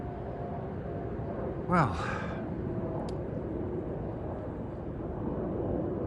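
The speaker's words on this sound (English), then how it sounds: "There's another plane overhead. I don't need to film it, you can just hear it." An airplane passes overhead at night as a faint, distant drone beneath a steady broadband hiss, with someone speaking and a brief sharp vocal sound near the start.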